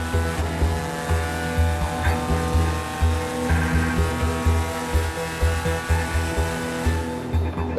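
Ferrari and Ford GT race cars battle in the GTE Pro class at Le Mans, their engines blending into a dense, rasping drone with rhythmic surges and a brief tire squeal, steady and loud with no voices.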